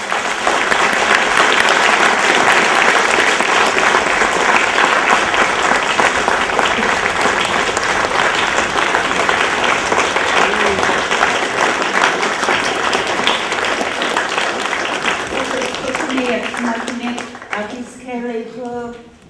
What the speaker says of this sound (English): I just want to ask for another applause for these great leaders here today